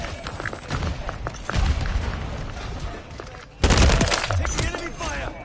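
Close enemy gunfire and booming impacts in the shooter Modern Warfare III come in choppy bursts, with a sharp loud blast near the middle and a voice talking over the din.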